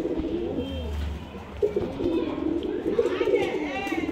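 Pigeons coo softly and repeatedly close by in a Bangalore pigeon seller's loft, their rolling calls layered over a low steady background while people talk.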